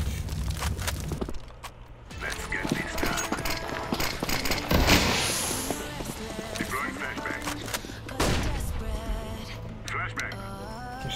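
Gunfire in Counter-Strike: Global Offensive during a competitive match, sharp sporadic shots and clicks scattered through the stretch, with a player talking over the game sounds.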